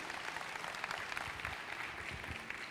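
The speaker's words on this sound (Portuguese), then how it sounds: "Palmas para eles, gente." Audience applause at a church service, a steady wash of many hands clapping together, moderately loud and unbroken throughout.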